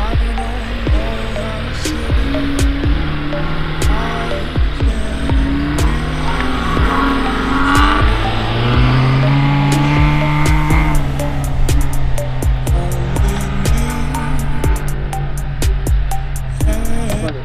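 UAZ off-road vehicle clawing its way out of a pit, engine revving hard and rising in pitch under load, loud and close, with sharp clicks and knocks toward the end.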